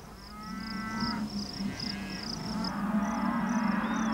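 Cattle on a large ranch moo in several overlapping low calls, a herd lowing at moderate distance, with a steady high chirping of insects or birds behind them.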